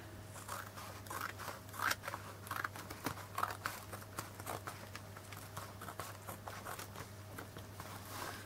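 Scissors snip repeatedly through an old hardback book cover, a close series of crisp crunching cuts in an irregular rhythm over a low steady hum.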